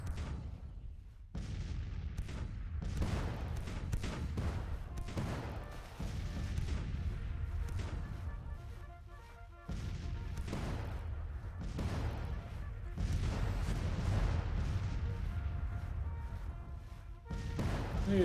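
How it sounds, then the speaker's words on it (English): Cannon fire from 12-pound howitzers in a Civil War strategy game, several booming blasts spread through the stretch with rumbling decay between them, sounding mid-distance and steady, no one talking. "Getting these 12-pound howitzers in action would be great."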